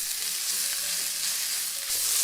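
Dried pollack stir-fried in a pan with onion, green onion and garlic, sizzling steadily with scraping stirring strokes, loud and close, no voices.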